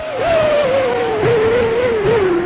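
Formula One race cars from the PS2 game Formula One 2003 at the Monaco Grand Prix scream past with a high, wavering engine whine that rises and dips with gear changes, loud and continuous throughout.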